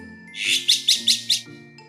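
A bird chirps in a quick run of about five bright, evenly spaced notes, fairly close and clear, with no talking.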